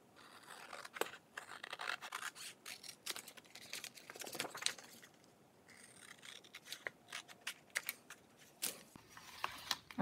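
Scissors snipping through paper or vinyl while a chalk-style home decor sign is made: a string of crisp cuts close by, brief and irregular, at a fairly quiet level with no talking.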